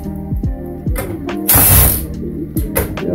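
Screws are driven out of a Canon PC921 laser printer copier during a teardown, a close, loud run of rapid ratcheting clicks, with a brief grinding whir in the middle and more ratchet clicks after it.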